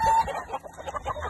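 Several chickens, including fighting roosters and newborn chicks, cluck and squawk nearby at a veterinary supply shop in a busy, overlapping chorus, with short repeated calls and no talking.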